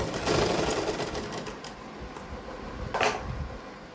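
A sewing machine runs steadily while stitching piping onto fabric, its rapid mechanical chatter continuous near the mic, with a brief louder burst toward the end.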